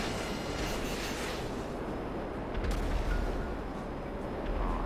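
Cannon fire from a fighter jet's guns in GTA 5, a dense continuous rumbling roar with heavy low-end booms, loud and steady throughout with a brief swell midway.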